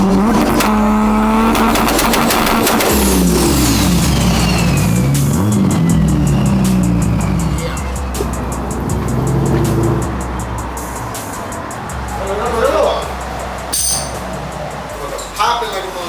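A 1500 hp Toyota Supra race car engine revs loud and close, its pitch sweeping up and down through gear changes, with sharp exhaust pops and crackles near the end as people talk nearby.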